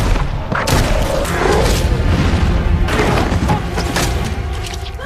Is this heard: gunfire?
yes